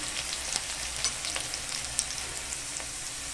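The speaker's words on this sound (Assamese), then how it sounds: "ইয়াতে মই পিয়াজখিনি ৰঙালে ভাজি লম" Chopped onion frying in hot oil in a pan for an Assamese home-cooked dish, a steady close sizzle with scattered small pops and crackles and no voices.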